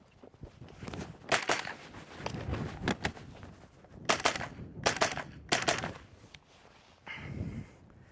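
Mini rifle fired in bursts of sharp shots during a reload-on-the-move drill, a few close reports clustered with short gaps between them, light shuffling in between.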